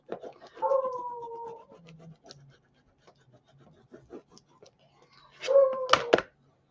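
A pet dog gives a few drawn-out, whining barks and yelps indoors, one near the start and a louder cluster near the end, with quiet shuffling in between.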